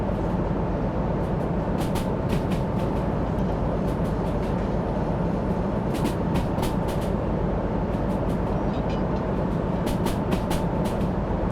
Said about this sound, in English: But I'm just letting the train ease its way up.